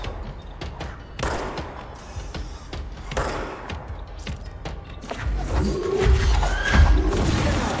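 Gunfire in the video game Control shoots at an enemy, with repeated sharp shots and bursts landing loud and close over a rumbling background, growing busier toward the end.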